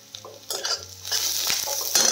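Soaked lentils (dal) drop into a hot pan for chighal chi bhaji and sizzle, with close clinks and scrapes of stirring against the pan in short bursts over a low background hum.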